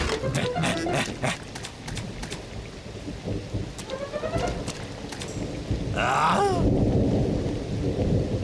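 Cartoon rain and thunder: steady rain hiss with low rumbling thunder throughout, a few sharp cracks early on, and a rising squeal-like sound near the middle.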